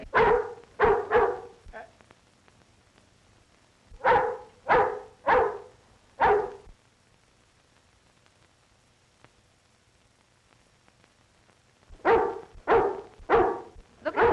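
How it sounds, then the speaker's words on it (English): A watchdog barks in sharp bursts, first three quick barks, then a cluster of four, then another run of four after a quiet pause, all loud and near with no talking over them. "here's a watchdog"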